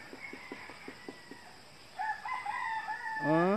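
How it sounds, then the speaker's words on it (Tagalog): Rooster crowing from somewhere below, preceded by a series of soft clucks, the crow rising and wavering, moderately distant and clear in a quiet outdoor setting. "Ay, may manok sa baba."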